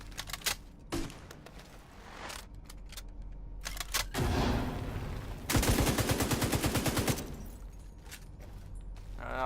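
A light machine gun in Tom Clancy's The Division 2, heard in scattered single shots and short bursts, then a long, steady, rapid stream of loud fire before it tapers off.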